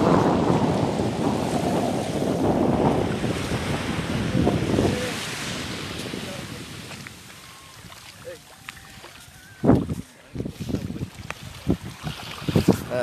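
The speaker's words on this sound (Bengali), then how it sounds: "প্রতিটা জলরাশি এসে আমাদের পায়ে চুম্বন দিয়ে চলে যাচ্ছে।" Sea waves wash onto Gangasagar beach in a broad rushing surge that fades away, then gusty wind buffets the microphone with sharp bursts over a quieter ocean background.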